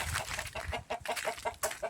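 Chickens cluck in a steady, busy stream of short calls, close by at a chicken house near Davao, Philippines, with no one speaking.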